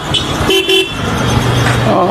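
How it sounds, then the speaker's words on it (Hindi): A motorcycle horn honks in two short beeps close by, followed by a steady engine hum, with a voice briefly heard near the start. "हॉर्न तो आपके फिर से बजाओ।"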